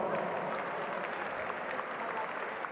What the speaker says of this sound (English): Let's give D15 another round of applause.